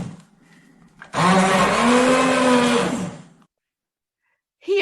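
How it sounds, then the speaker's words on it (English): A kitchen blender is switched on, whirs loudly for about two seconds with a rising motor whine, then is switched off and falls silent. "identify the moment at which the person is actually turning the blender on and off"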